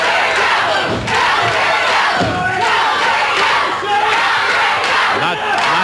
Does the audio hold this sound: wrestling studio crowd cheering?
yes